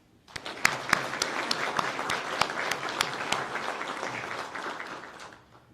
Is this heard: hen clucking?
no